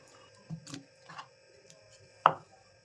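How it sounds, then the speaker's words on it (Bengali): A knife chops green, unripe tomatoes on a board: a few sparse, sharp knocks, the last one loudest, over a faint steady hum. "দেখো কিভাবে কেটে নিচ্ছি সমস্ত কাঁচা টমেটো"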